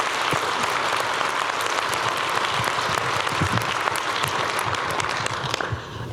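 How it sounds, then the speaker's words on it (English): Audience applause at a conference closing awards ceremony, a sustained dense clatter of many hands, loud and even before tapering off near the end. "let's give her a round of applause."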